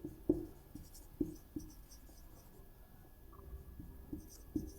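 A pen scratches across paper in a quiet room, with faint, irregular strokes and several sharp taps marking where the tip lands, all low in level.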